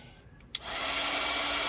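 A heat tool switches on with a click and then blows a steady, close airy whoosh while it melts embossing powder.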